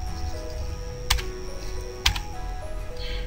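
Computer keyboard typing of a bid amount, two sharp key clicks about a second apart over a low steady background hum.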